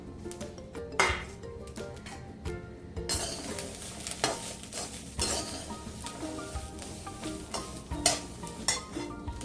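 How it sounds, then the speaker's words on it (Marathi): Peeled garlic cloves roast in oil in a pan for homemade kanda lasun masala, with a steady low sizzle under frequent utensil clinks, scrapes and stirring knocks that grow busier after the first few seconds. "हा असं लसूण मी सोलून घेतलाय तो पण तेलामध्ये चांगलं भाजून घ्यायचा"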